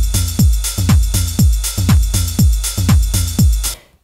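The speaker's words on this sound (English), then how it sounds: "This, I think, is actually just the Ableton 909 kick drum sample." Drum machine rhythm section built on an Ableton 909 kick drum sample: punchy booming kicks in a steady four-on-the-floor pulse with bright hi-hat ticks between them, loud and dry, with no talk.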